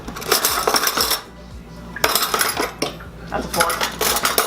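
Metal cutlery clinks and rattles as someone rummages through a drawer for a spoon, in two bursts of bright jangling separated by a short lull, close and fairly loud.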